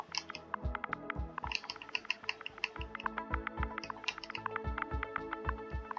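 Quick, uneven keystrokes on a computer keyboard as a name is typed into a search box, close and fairly quiet, with irregular bursts of clicking and no talking.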